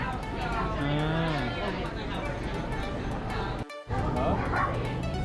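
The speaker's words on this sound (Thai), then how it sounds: "เกิดเหตุการณ์หมาทะเลาะกันนะครับ" Several dogs bark and yip in a noisy, chaotic fight in the United States, under a busy crowd of voices, the clamor nearly continuous.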